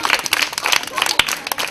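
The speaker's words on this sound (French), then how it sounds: "Applaudissez une fois." A crowd at a Christmas gathering with Santa Claus claps in a short burst of sharp, uneven claps, mixed with nearby voices.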